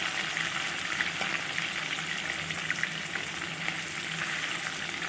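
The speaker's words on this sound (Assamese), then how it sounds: "এয়া মোৰ তেল গৰম হৈ গৈছে, আৰু এতিয়া মই মাছৰ পিচকেইটা ইয়াত ফ্ৰাই কৰি ল'ম।" Khoriya fish pieces frying in hot oil, a loud continuous close sizzle with crackling pops, no talking.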